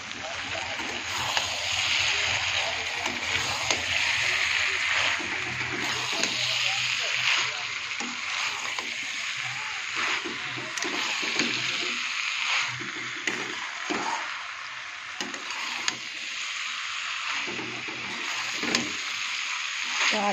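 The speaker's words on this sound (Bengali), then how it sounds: "তো আলুটা একটু কষিয়ে নিই" Boiled potatoes stir-fry in a pan for ghugni, giving a steady, close sizzle and crackle that runs the whole time under a voice talking.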